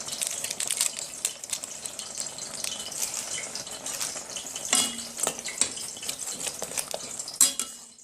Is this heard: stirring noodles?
yes